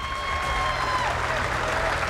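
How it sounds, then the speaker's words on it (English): A crowd at a bass fishing tournament weigh-in on Lake Okeechobee applauds an angler, a steady roar of clapping with cheering and voices mixed in throughout. "Let's give him a good round of applause."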